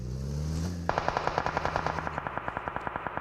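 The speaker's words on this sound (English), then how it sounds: "Vehicle gets hit with a barrage of bullets from the bridge there." A video-game vehicle is hit by a barrage of gunfire: a low engine drone gives way to a loud, fast, evenly spaced stream of rapid shots that continues to the end.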